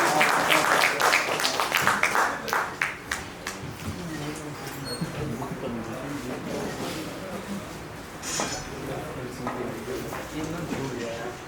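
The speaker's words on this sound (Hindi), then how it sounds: "एक बार जोरदार तालियों से स्वागत करा जाए" An audience at a nautanki performance claps loudly to welcome guests, a dense burst of applause that tapers off within a few seconds, after which someone speaks over a microphone.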